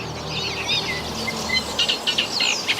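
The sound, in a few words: reed warbler singing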